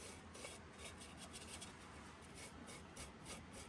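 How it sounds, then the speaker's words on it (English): Scrubbing down the brake hardware mounting areas on an International Scout, a steady rough brushing rasp repeating in quick strokes, close and continuous with no talk. "we're just going to give a quick little scrub down to the mounting areas where all the brake hardware"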